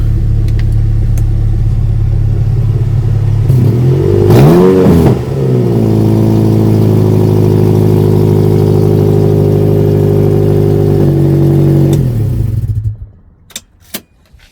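An NC Mazda MX-5 engine with an exhaust leak idles loudly, gives a quick rev that rises and falls, then settles back to a steady idle before cutting off near the end.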